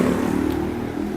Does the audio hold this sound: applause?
no